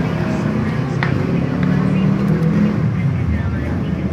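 A motorcycle engine fitted with a Keihin PWK 28 mm carburetor runs close and loud in a steady, throbbing drone, with a voice talking over it.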